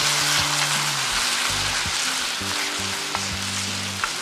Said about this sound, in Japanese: このね、焼きそばソースをね、入れてみようかと思います。